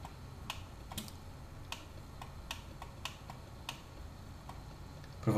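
Computer keyboard keys pressed during 3D modeling work in Blender, a string of light, crisp clicks at an irregular pace, close and fairly quiet with no talk over them.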